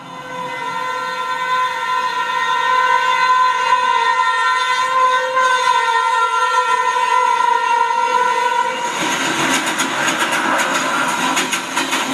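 A train runs along the Konkan Railway with a loud sustained horn holding steady tones, then shifts into the broadband rumble and clatter of wheels on track, close and continuous throughout.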